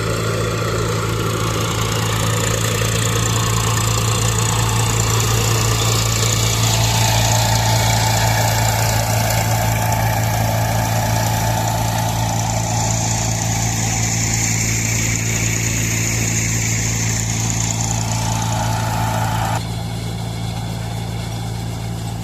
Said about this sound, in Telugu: ఒకసారి ఇంజన్ సౌండ్,